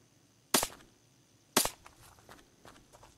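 Two loud, sharp gunshots in the survival video game Unturned, about a second apart, followed by fainter thuds and scattered small impacts.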